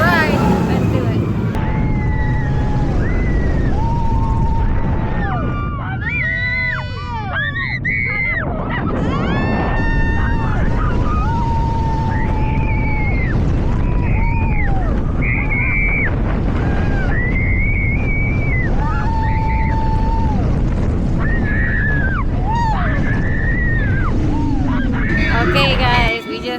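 Riding the Xcelerator roller coaster at Knott's Berry Farm: heavy wind rush roars past the microphone throughout while riders scream and shout in repeated rising and falling cries.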